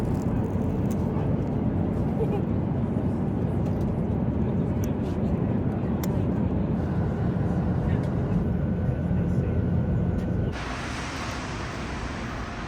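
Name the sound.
airplane cabin noise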